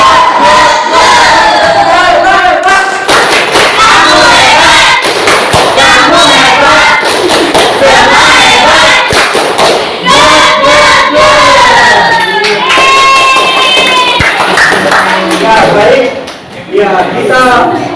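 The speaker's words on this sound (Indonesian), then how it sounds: "kita semangatkan lagi kelas kita dengan sama-sama melakukan tepuk hebat ya" A classroom of high-school students shouts the rhythmic 'tepuk hebat' clapping chant together, loud and continuous, with claps and voices blending into a crowded, energetic group cry throughout.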